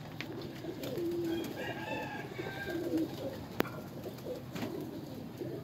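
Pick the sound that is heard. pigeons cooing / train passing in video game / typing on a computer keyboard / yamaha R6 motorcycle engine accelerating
pigeons cooing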